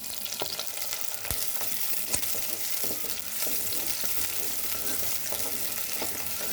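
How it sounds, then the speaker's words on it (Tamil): Onions sautéing in oil until golden for a brinjal and raw mango tamarind curry, a continuous bright hiss of frying with occasional clicks and scrapes of a stirring spoon, close by. "வெங்காயம் நல்லா பொன்னிறமாக வதங்கட்டும்"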